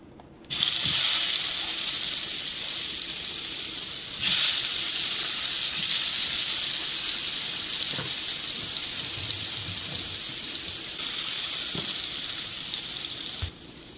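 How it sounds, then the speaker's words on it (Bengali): Potatoes frying in hot oil for a Bengali-style rohu fish kalia, a steady, close sizzle that runs the whole stretch with small surges in intensity and no talking. "এবার আলুটা ভেজে নেবো।"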